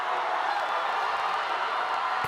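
A large basketball arena crowd at a PBA semifinal game, Meralco Bolts versus TNT Tropang 5G, makes a steady, broad roar of chatter and cheering that fills the space, with a voice faintly audible in the mix.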